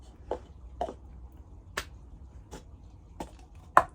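Cup song rhythm tapped on a table with a cup: a sparse series of six sharp clap, cup-grab and table-hit knocks at an even pace, close and crisp in a quiet room.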